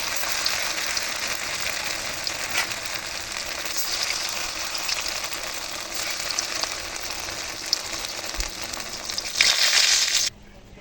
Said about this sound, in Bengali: এখন ছানাগুলো ভেজে নেব